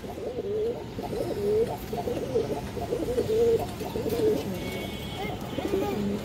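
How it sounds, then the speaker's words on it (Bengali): Two female pigeons from a good breeding line coo close by, giving repeated soft, throaty, wavering calls that overlap continuously over a low background hum. "খুবই ভালো ব্রাডলাইনের দুইটা মাদি কবুতর"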